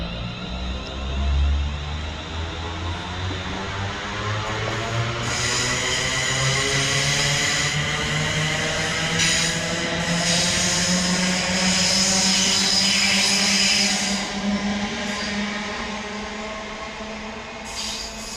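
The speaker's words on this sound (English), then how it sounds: "the steam train that's coming through" A steam locomotive passes through Wellingborough railway station, a loud steady rumble with a rising roar and rhythmic clatter that peaks midway and then eases off as it moves away.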